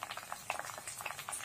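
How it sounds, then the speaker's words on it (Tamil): Herbal hair oil with wet hibiscus leaves bubbles and crackles in a pan, a steady close boiling patter with scattered sharp pops and sizzles and no talk. "எல்லாம் சேர்ந்து எண்ணெயில் கொதிக்கிற மாதிரி நல்லா கலந்து விட்டுருங்க."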